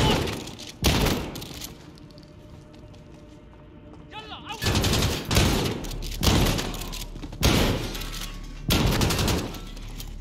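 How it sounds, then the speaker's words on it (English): A flashbang goes off in Call of Duty Modern Warfare, one of several loud, sharp bursts in a rapid series of blasts and gunfire, with a quieter gap of ambient hum and a faint voice between the hits. "Let's throw a flashbang there."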